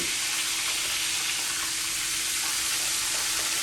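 Cracker-crusted chicken fried steak frying in hot oil, giving a steady, dense, close sizzle that stays even throughout with no talking.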